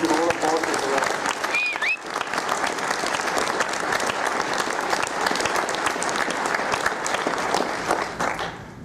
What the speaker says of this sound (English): I think you should all applaud you for that.